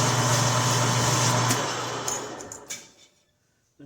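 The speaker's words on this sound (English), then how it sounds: "We'll install this in our lathe." A lathe spinning a Ford starter armature gives a steady motor hum that winds down over a few seconds with some light rattles, then falls to near silence.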